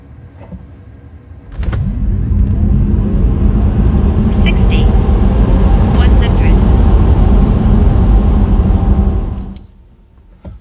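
Tesla Model 3 Performance spinning up on a dynamometer, a loud steady roar with electric drive whine that starts abruptly, holds for about eight seconds, then cuts off sharply.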